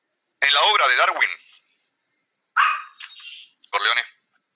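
A dog barks loudly and close by indoors in three bursts, the first long and drawn out, the others shorter, with quiet gaps between.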